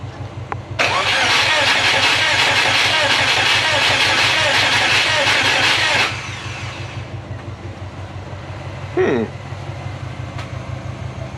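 A Subaru Forester with a spark plug fault cranks and catches into a loud, rough, pulsing run for about five seconds, then drops to a quieter, steady idle, with a brief clatter near the end.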